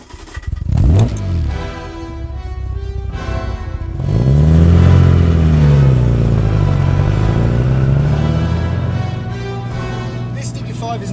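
Restored Aston Martin DB5, a weighty classic carrying extra gadget equipment, driving along with a clattering start before the engine swells into a loud, wavering drone that rises and falls in pitch as it pulls, with a voice speaking over it.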